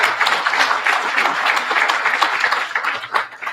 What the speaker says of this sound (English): Let's give them a round of applause for putting this all together.